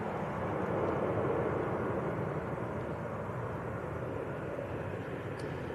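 An aircraft on final approach at Manchester Airport produces a steady, broad engine roar that swells slightly early on and then holds continuous at moderate distance.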